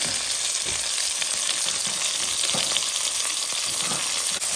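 A whole onion frying in a pot gives off a dense, steady sizzle that stays loud and even for a few seconds, with faint stirring bumps and no voices.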